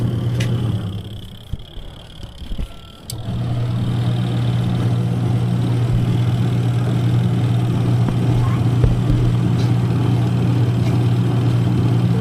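A washing machine motor under a DIY automatic-to-manual conversion test hums steadily and fairly loud, with a brief dip and clatter early on before the even drone resumes and carries to the end.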